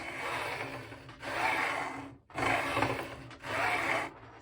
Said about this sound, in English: This is a fret dressing file.